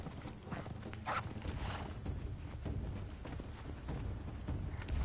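In the video game Conan Exiles, a horse's hooves clip-clop steadily amid a busy, rumbling game soundscape, with a brief whinny early on, fairly close and continuous.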